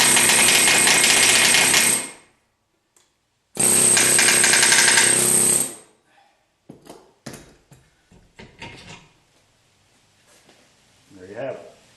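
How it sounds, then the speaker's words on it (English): Pneumatic air hammer pounding a 1976 Corvette trailing arm spindle clamped in a vise: two loud sustained bursts of rapid hammering, each about two seconds, separated by a pause, followed by scattered clanks and brief voices. "I've got the air hammer. I've been hitting it alternately on each side."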